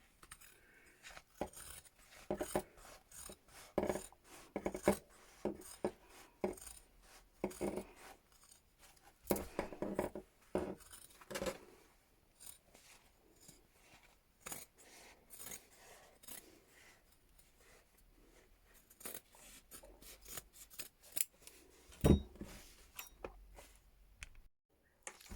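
Scissors snipping through denim jeans fabric while a bag is being made, a long run of close, crisp irregular cuts and rasps with short pauses between them and no talking.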